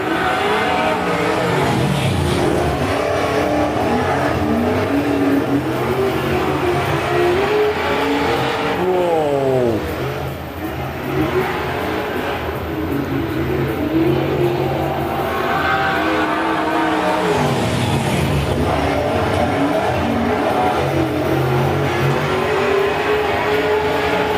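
Dirt track race cars roaring around a speedway, a continuous loud engine drone with pitch rising and falling as cars pass and accelerate, dense and unbroken throughout.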